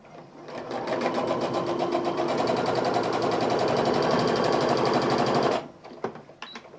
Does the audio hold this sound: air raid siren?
no